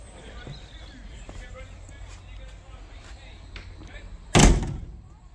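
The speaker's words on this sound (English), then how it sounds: "Lovely slam of a door from a 1950s, 60s carriage." A door on a 1950s–60s steam railway carriage on the Dartmouth Steam Railway shuts with a single loud, solid slam after several seconds of quiet outdoor station ambience, then the sound decays briefly.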